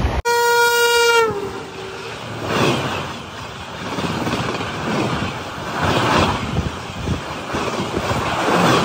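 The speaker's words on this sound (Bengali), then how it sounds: "ট্রেন ঢুকছে আমাদের খড়গপুরে।" A long horn blast opens as the Duronto Express pulls into Kharagpur station, followed by the heavy rolling rumble and rhythmic clatter of the coaches over the rails, swelling and fading in waves.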